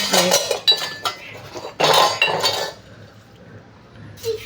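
Steel utensils clink and clatter in quick bursts as a little girl hangs dishes, bowls and a tiffin on a kitchen rack, several sharp metallic hits close by followed by quieter settling.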